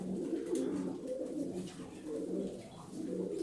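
Pet pigeons in a loft coo softly and repeatedly at close range, low throaty murmurs rising and falling steadily with no talk over them.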